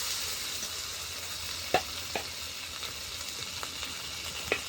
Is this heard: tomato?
yes